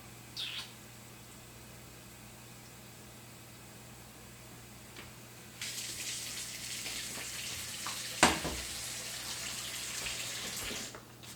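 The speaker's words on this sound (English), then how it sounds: "I'm just making a pot of water to heat up." Water from a kitchen tap pours into a pot as it fills, a steady broadband rush that starts partway through, runs several seconds with a brief clank, then stops; quiet room tone before it and no talking.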